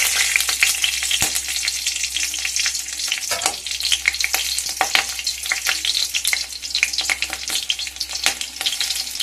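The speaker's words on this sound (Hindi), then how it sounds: "तेल ताती गले एथिरे कंचा लंका गोटे भांगिकी पकेबी।" Green chilies spitting and crackling in hot mustard oil in a kadai, a loud, busy sizzle with sharp pops and bursts throughout and no voices.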